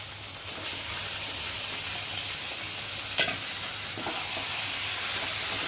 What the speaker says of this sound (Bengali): চিকেনটাকে ভালো করে মশলার সাথে কষিয়ে নেব।